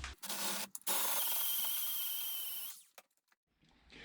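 A high-pitched power drill whines steadily drilling out wheel studs on a 1989 Grand Wagoneer, with brief start-stop bursts before and a few clanks after.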